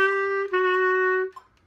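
A Bb clarinet plays a short, clear phrase from The Greatest Showman, two sustained notes held solo and close, ending with a quick fading note.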